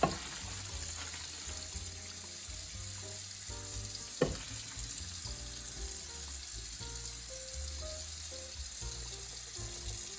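Quiet, steady sizzling of fettuccine added to a frying pan, with a soft clatter around the middle and low kitchen hum throughout.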